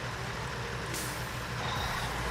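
Air brake hiss and a steady low engine rumble from a truck in the SnowRunner off-road driving game, with a brief bright burst of released air near the middle over continuous idling drone.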